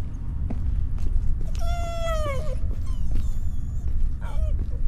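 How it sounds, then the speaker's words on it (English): Dogs in the horror game There's Something In The Ice give a rising, drawn-out whine, followed by shorter whimpering cries over a low background rumble. "Is that the dogs we can hear?"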